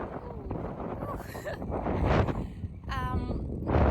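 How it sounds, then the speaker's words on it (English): Steady wind buffets the microphone with broad rumbling noise throughout, while a person talks over it and a brief whistle-like tone appears near the end, at the Seltún geothermal fields in Iceland. "it's very windy"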